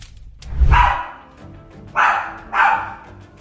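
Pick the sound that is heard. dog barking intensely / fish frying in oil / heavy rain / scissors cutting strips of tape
dog barking intensely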